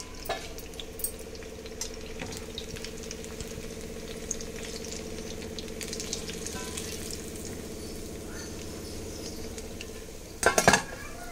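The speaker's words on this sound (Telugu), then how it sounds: "మంచిగా గోల్డెన్ బ్రౌన్ కలర్ వచ్చేంత వరకు బాగా వేయించుకోవాలి" Carrot and beetroot purnalu deep frying in hot oil, a steady close bubbling sizzle with light stirring and utensil clinks, ending in a brief louder clatter.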